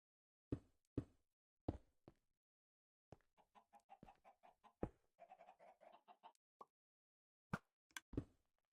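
Minecraft chickens cluck and flap, short sharp bursts near and clear, with a run of quick soft clucks in the middle and scattered knock-like hits in an otherwise silent background.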